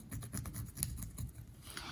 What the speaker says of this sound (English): I could use my pencil to just kind of mark the center of that ribbon, that zipper tape